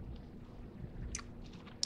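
Freeze-dried candy crunching between the teeth during eating, with two short, sharp crunches standing out over a quiet, low background.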